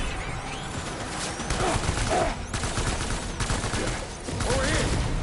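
Dense, continuous gunfire from the video game Death Stranding, with loud, overlapping bursts and crashing impacts that barely let up over several seconds, close and heavy.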